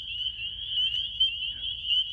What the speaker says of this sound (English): Man, there are a lot of frogs.